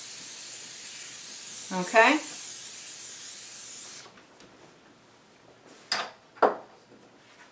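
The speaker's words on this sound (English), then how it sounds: "the first thing I like to do with my dishes is to spray them so that the potatoes do not stick" A short hiss of cooking spray into a baking dish for scalloped potatoes, followed by brief quiet and a couple of light clatters and noises, with a short spoken word.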